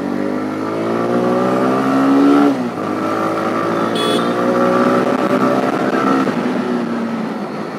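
A 2022 TVS Raider 125 motorcycle accelerates while ridden with a pillion in city traffic, its engine note rising in pitch, dropping at a gear change, then climbing again, loud and close throughout.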